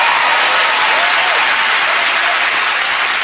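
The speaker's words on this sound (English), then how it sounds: "give him a round of applause" Loud, sustained studio audience applause greets Sir David Attenborough on a television chat show, a dense, even wash of clapping from start to finish.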